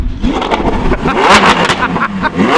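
A Lamborghini fitted with a Ryft exhaust revs hard close by, a loud continuous roar with rising and falling engine pitch as the throttle is blipped repeatedly, no talking over it.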